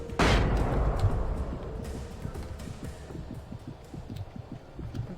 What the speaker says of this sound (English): Come on, flashbang!